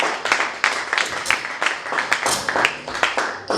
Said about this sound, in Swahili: tumkaribishe kwa makofi anapokuja.